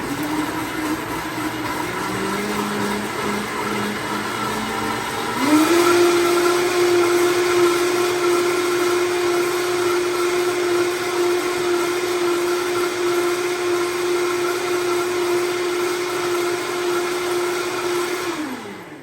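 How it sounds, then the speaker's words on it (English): A blender blitzes dates, soy milk and vanilla for a plant-based peach cobbler batter, a loud steady motor whine that shifts pitch upward partway through, then holds for over ten seconds before winding down. "then we're gonna blitz this in the food processor or the blender very quickly"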